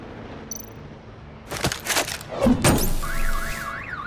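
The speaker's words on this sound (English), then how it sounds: "My bat stunner would set off the car alarm." A car alarm set off by a bat stunner in Batman: The Enemy Within: a sharp crack and thuds, then the alarm's rising and falling electronic wail starts up.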